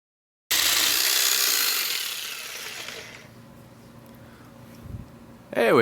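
A Milwaukee jigsaw cuts through metal bar stock, starting with a loud, harsh, steady blade rasp that gradually eases and thins into a quieter, lighter cutting tail before a brief final clatter.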